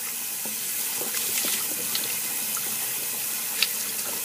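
Cold tap water running steadily from a kitchen faucet over eggs in a pot or sink, a constant close hiss and splash with a few small clinks, no talking.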